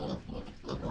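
A black native pig grunts in a short burst of two rough snorts at close range, with a farmyard feel and no voices over it.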